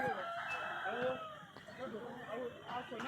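Chickens cluck and call in a noisy outdoor setting at the Dharwad agricultural fair, with voices chattering in the background.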